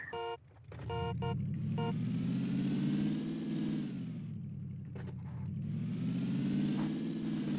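A police car engine in PUBG revs up and holds a loud, steady drone, rising and falling in pitch over several seconds, with brief electronic beeps at the start.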